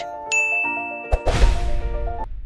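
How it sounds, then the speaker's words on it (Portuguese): A bright bell ding rings out, followed by a shimmering whoosh and chime, a short produced sound effect with no voices. "ative o sino de notificações"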